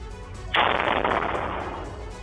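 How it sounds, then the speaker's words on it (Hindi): A sudden loud blast erupts in Chandigarh after a brief rumble, followed by a noisy roaring decay that fades slowly, as heard on CCTV footage. "इस वीडियो में धमाके की आवाज साफ सुनाई दे रही है।"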